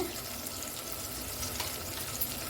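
Water poured into a cooking pan with tomato for upma, a continuous close splashing rush with faint sizzle beneath, steady throughout without speech.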